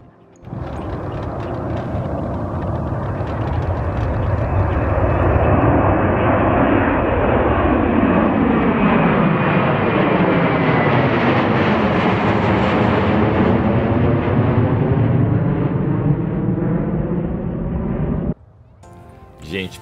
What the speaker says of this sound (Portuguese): Você vê vendo os aviões gigantes passando bem bem embaixo da sua cabeça